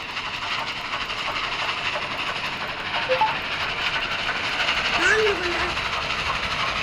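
A steady rumbling hiss of a moving train in the Roblox game Dead Rails with faint rhythmic clatter, continuous throughout, with a few brief tonal blips over it.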